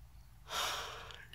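A single long, breathy yawn from a person, rising suddenly to a loud open exhale and then trailing off slowly, heard alone without speech.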